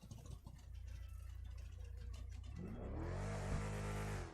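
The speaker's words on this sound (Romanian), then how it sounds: "Și îmi place cum sună motorul." A modded car with a turbo in GTA 5 idles with a low, steady rumble, then revs up sharply, its engine note climbing and holding loud near the end.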